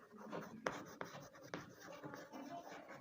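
Pen or chalk writing out the Pythagoras theorem during a maths lesson, soft scratchy strokes broken by a few sharp taps, close by and faint.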